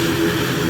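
Older ATR turboprop airliner engine running nearby, a steady loud droning roar with a tonal propeller hum, continuous and without talk.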